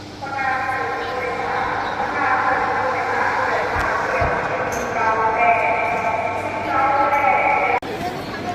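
Idling train with a steady low rumble and sustained horn-like tonal drone at a station as passengers board, broad engine noise continuing throughout with a brief dropout near the end.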